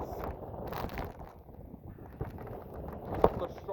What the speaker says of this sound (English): Some of the strongest winds I've ever seen in my life.